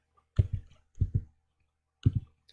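Computer keyboard keys pressed during software setup, three short double-click bursts spaced about half a second apart, close and crisp in a quiet room.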